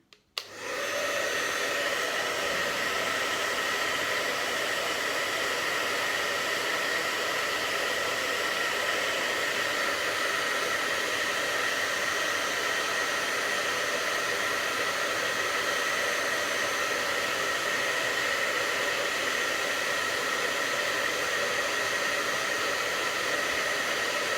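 A hair dryer runs steadily and loudly for the whole stretch while heating Jamberry nail wraps, its airflow a constant broadband roar that kicks on at the very start and never lets up.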